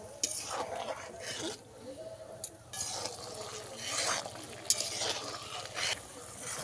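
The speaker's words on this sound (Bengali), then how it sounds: "এই অবস্থাতে দিয়ে দেবো মিষ্টিগুলো শিরার মধ্যে এবার এক থেকে দুবার ভালোভাবে ফুটিয়ে নেবো" Gulab jamun simmer in hot sugar syrup, a steady close bubbling and sizzling with occasional light clinks of a utensil against the pan.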